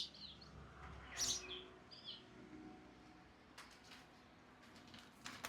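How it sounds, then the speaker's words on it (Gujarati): Sparrows chirp outdoors on a summer morning, a few faint high tweets in short bursts over quiet background hiss. "ચકલીઓ બોલી રહી મસ્ત"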